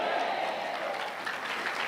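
A congregation applauds and cheers during a French-language church service, a dense wash of clapping with crowd voices mixed in, steady and moderately loud throughout.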